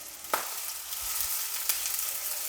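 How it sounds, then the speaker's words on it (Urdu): Two medium chopped onions dropped into about half a cup of hot oil, sizzling and frying with a steady, close hiss and a few soft pops and crackles. "یہ والا کپ میں نے 1/2 ڈالا آئل کا۔ اسی میں ڈال رہی ہوں پیاز"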